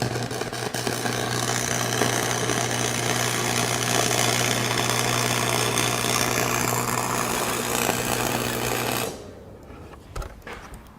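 A cheap 110 volt MIG welder buzzes and crackles in a steady, loud, continuous arc for about nine seconds before it cuts out abruptly, leaving quieter handling noises.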